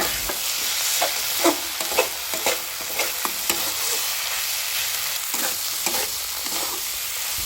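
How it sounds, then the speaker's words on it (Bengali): Potatoes and chopped tomatoes fry in a pan for a khoilsha fish curry, giving a loud, steady hiss of sizzling oil broken by soft, regular scraping stirs. "টমেটো দেওয়ার পরেও নেড়ে চেড়ে টমেটো আমাদের বেশ কিছুক্ষণ কষিয়ে নিতে হবে।"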